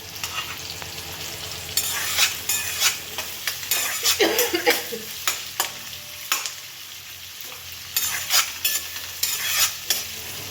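Poha is stirred in a hot pan, a sizzling fry broken by repeated scraping strokes of a spoon against the metal at an uneven rhythm.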